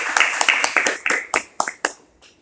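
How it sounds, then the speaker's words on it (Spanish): A small audience at a dental seminar on GMI implant systems claps to welcome Dr. Juan Astonitas, a handful of sharp, separate claps that thin out and fade within a couple of seconds. "Recibamos un fuerte aplauso al doctor Juan Astonitas"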